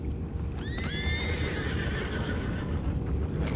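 Horses in the Red Dead Redemption 2 video game whinny once, a clear rising-then-falling neigh near the start, over steady low rumbling ambience and faint hoof shuffling.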